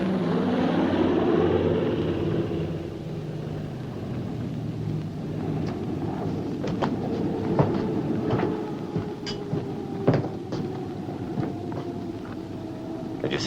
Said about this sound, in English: No. Patrol plane, probably.